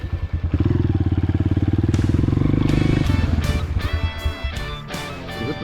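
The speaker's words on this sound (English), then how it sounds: "that bike is a 2007 Honda CRF 230S" A 2007 Honda CRF 230S motorcycle engine running loud and close, a steady throbbing drone that breaks into irregular popping and clattering bursts toward the end.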